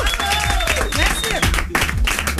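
Applause for a singer at the NRJ Music Awards 2013, a loud crowd clapping in a radio or studio setting, mixed with music and voices throughout the short stretch.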